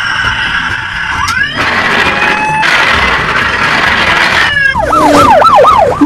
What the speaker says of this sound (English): It's a pullback police car.